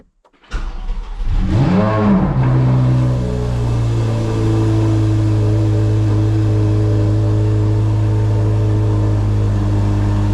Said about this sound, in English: Okay, so now I need to crank the car.